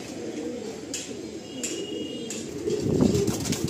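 Pigeons cooing softly, low throaty calls repeating under faint background noise, with a light rustle or flutter of wings near the end.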